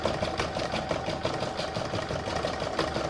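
An embroidery machine stitches the quilting round of a Santa in-the-hoop applique design, a fast steady mechanical whirring and clatter with a regular needle rhythm, close and continuous, with no talk.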